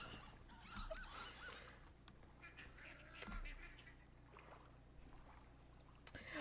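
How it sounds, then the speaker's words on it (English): Ducks quack faintly in a few scattered, distant calls over low background noise, with no talk. "I hear ducks."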